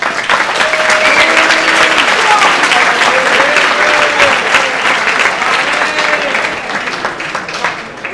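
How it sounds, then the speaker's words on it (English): Audience at a party convention evening assembly applauds panelists, a dense sustained burst of clapping filling the room and tapering slightly at the end, with faint voices underneath. "Round of applause for both of our panelists."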